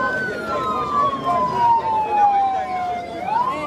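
An ambulance siren wails steadily along a road, its pitch gliding slowly downward as it passes, then rising again at the end, loud and close over a busy street background.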